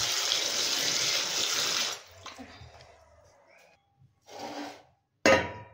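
Cauliflower pieces being washed in water in a home kitchen for gobi pakoda, with about two seconds of steady pouring and sloshing, then quieter rubbing, splashes and a final short loud burst of water.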